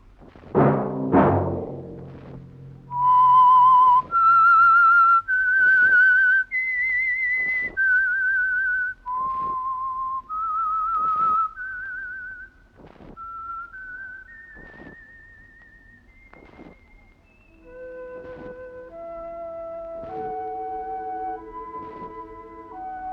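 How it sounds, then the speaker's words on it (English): Whistled signal theme of The Whistler, the Signal Oil radio drama: a clear, close melody of long sustained whistled notes that climb and then fall, rising to a strong level and leading into softer layered music at the end. "Let that whistle be your signal for the Signal Oil program, The Whistler"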